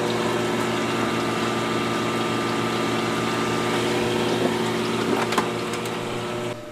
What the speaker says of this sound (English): with an adequate amount of water in the wet-dry trickle filter below, we plug in the filter water pump.